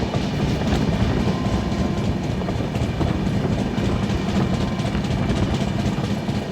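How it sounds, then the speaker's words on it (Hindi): A passenger express train picking up speed rumbles steadily along the tracks with a continuous clickety-clack of wheels, loud and close, no voices over it. "गाड़ी ने अब अपनी रफ्तार पकड़नी शुरू कर दी है।"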